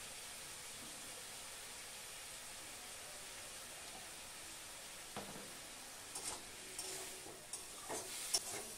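Kohlrabi frying in a pan with onion, cumin and ginger paste, a faint, steady low sizzle that is joined toward the end by a few soft clinks and stirring knocks.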